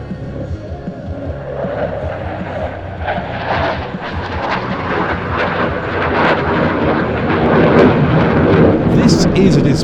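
Dassault Rafale fast jet performing a solo air display at NATO Days, a loud, continuous roar of jet engine noise with rumbling swells that builds toward the end, with no voices over it.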